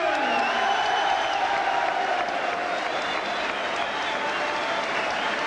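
Sustained applause from a large crowd at a boxing match in Mansfield, steady and loud throughout, with a broad hall-like roar and faint cheering mixed in.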